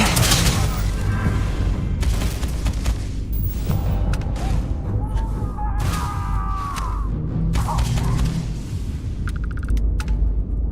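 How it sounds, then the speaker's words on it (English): A trap grenade going off in the space game Starfield, a loud booming blast with crashing, creaking debris and rumbling aftermath that fills the whole stretch, with faint talk mixed underneath. "What the flip was that type of grenade? It's called a Trap grenade."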